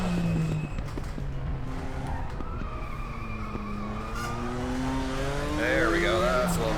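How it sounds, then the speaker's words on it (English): A Nissan Skyline engine in the Raceroom racing game at Sonoma, droning steadily with rising pitch as it revs through the gears, accompanied by tire squeal in a continuous, loud run. "I gotta say one thing about the Skyline I'm just really not impressed with is the sound."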